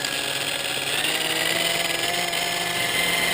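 A Hitachi variable speed buffer polishing metal at about 1,000–1,100 RPM gives a steady, continuous motor whine with a dense, even hum that holds at constant loudness, close up and with no voices.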